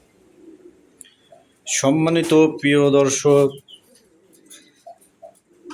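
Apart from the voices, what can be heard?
pigeons cooing at a pigeon farm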